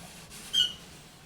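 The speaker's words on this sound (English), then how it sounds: "The chair that I'm sitting in makes the sound of a dying bird when I get up." A chair squeaks once as someone rises from it, a short, thin, high-pitched creak in a quiet room, not especially loud.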